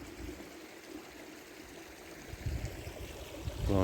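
Water trickling and splashing into a catch pipe fitted with a debris catcher at a lake inlet in a state park, a steady, fairly faint flowing stream heard from close by with a brief louder gush near the end.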